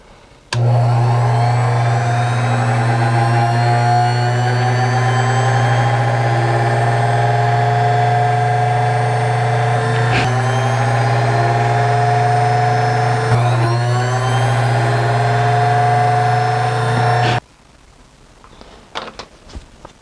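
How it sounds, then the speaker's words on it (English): A small drill bores holes in a 1:50 scale model engine cover, a loud, steady motor whine holding one pitch for about seventeen seconds before cutting off, followed by faint scattered handling noises. "now that I've got the holes drilled in the back here"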